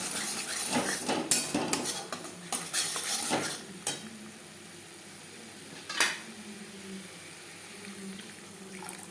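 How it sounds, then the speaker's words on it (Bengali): Spices stirred into ghugni in a metal pan, with a burst of clattering spoon scrapes and knocks early on, then quieter with a single sharp clank later and no talk. "মশলার সাথে বেশ ভালো করে মিক্সড করে দেবো"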